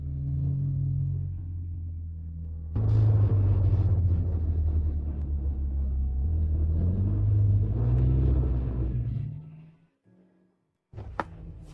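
Car engine rumbles low and steady, swelling louder for several seconds before dropping away to near silence, then a faint clack follows.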